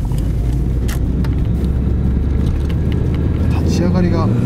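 A Toyota Caldina GT-T turbo engine accelerates, heard from inside the car as a loud, steady roar with broadband road and cabin noise throughout, while people talk over it.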